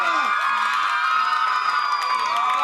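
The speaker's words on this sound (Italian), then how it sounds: "vogliamo fare un grande applauso per questi artisti?" Cheering and shouting from fans, many young voices whooping with high sustained cries at a fan meeting for the artists, loud and continuous for a few seconds.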